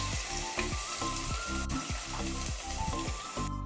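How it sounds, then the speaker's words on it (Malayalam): Ginger garlic paste fries in hot oil for a chicken curry, giving a loud, continuous sizzle with a pulsing, bubbling texture heard up close. "നമ്മളിവിടെ എണ്ണ ചൂടാക്കാൻ വെച്ചിട്ടുണ്ട്. ഇനി നമുക്ക് ആദ്യമേ നമ്മുടെ ജിഞ്ചർ ഗാർലിക് പേസ്റ്റ്,"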